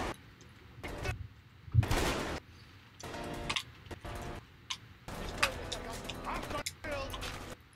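Bursts of gunfire and grenade launcher blasts from a firefight in the video game A Way Out, sharp loud cracks scattered across the span and mixed with someone talking over the action.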